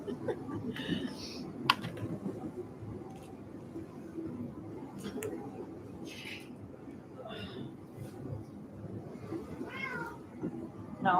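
A cat meows several times indoors, short mid-pitched calls scattered across the stretch over a low background hum, with faint clicks.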